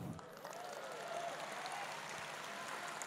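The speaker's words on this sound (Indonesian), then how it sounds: "Nggak usah tepuk tangan" Faint, steady clapping from an audience at a talk in Batu Licin. It is distant and low, with a little talking underneath.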